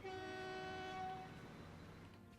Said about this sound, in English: And that is a Burton steel train.